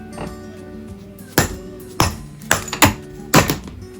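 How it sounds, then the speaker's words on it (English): Metal hammer blows drive a front wheel bearing out of a Ninebot Max electric scooter wheel, five sharp ringing strikes at uneven intervals, loud and close with short metallic decay, no talking. "Hammer it to the other side so the other bearing comes out."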